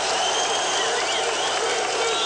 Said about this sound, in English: This is Shrimpy being acknowledged by the crowd here, a very enthusiastic crowd.